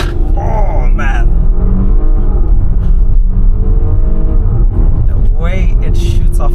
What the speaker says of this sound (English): this car is equipped with launch control, which is called performance start in this car, and I'll engage it.